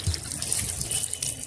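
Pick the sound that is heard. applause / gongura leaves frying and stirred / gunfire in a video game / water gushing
water gushing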